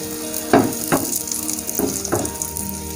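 Naan coated in omelette mixture fries in a hot pan, a steady sizzle broken by a few sharp clatters as it is flipped and moved, close and fairly loud with no voices.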